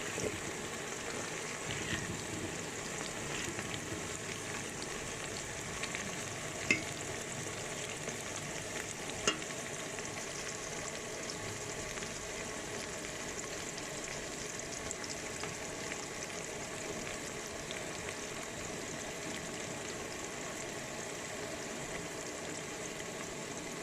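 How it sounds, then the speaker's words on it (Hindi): Onions and green chillies fry and get stirred in a pan for a chickpea gravy, a steady, fairly quiet sizzle with occasional scrapes and light clicks of the spoon, no voices. "प्याज के साथ हम हरी मिर्ची डालेंगे। इसको मिक्स करेंगे।"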